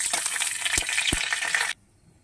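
Bay leaves, dried red chillies and cumin seeds fry in oil for a tempering, a dense close sizzle with a couple of sharp knocks, cutting off abruptly into near silence.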